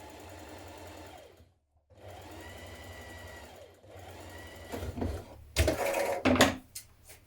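Sewing machine stay stitching along the neckline of a long coat, running in steady bursts with brief pauses between them. Louder handling clatter and knocks come near the end.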